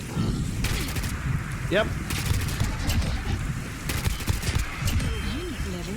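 Gunfire bursts from the video game Fallout 4 crackle repeatedly through a steady din, with a companion firing during play, while a person speaks briefly over the shots.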